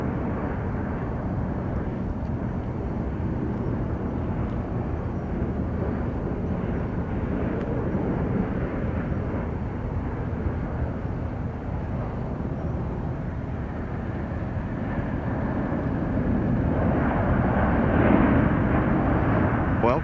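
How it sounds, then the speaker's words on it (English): Boeing 787 Dreamliner airliner at San Francisco International Airport: a continuous heavy jet roar, loud and close, building gently toward the end as the aircraft passes. "another Dreamliner."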